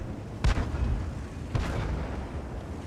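Two booming King Tiger tank cannon shots in World of Tanks on the Abbey map, about a second apart, each a sharp loud blast trailing into rumble over steady engine drone.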